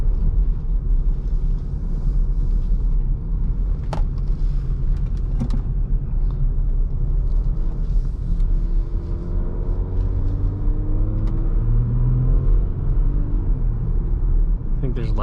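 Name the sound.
Jeep Grand Cherokee EcoDiesel driving with Injen intake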